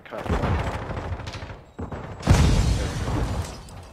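A flash grenade goes off in a first-person shooter game, a loud, close burst of gunfire-like cracks and a sharp bang. Heavy noisy crackle follows, with some voice activity underneath.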